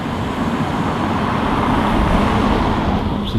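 A bus on a street in Eastbourne pulls away from its stop, its engine a steady low rumble mixed with surrounding traffic noise, moderately loud and continuous with no voices.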